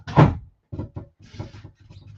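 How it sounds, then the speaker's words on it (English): An indoor door is pushed shut with a single solid thud near the start, followed by softer knocks and shuffling movement. "I'm going to close the door."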